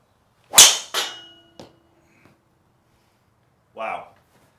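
A driver, a Ping G400 LST or TaylorMade M1 460, strikes a golf ball off the tee with a sharp, loud crack and a brief ringing tail, followed by a short voice after a pause.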